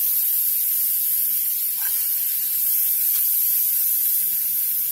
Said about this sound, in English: So I'm heating up the pan. It is on medium high.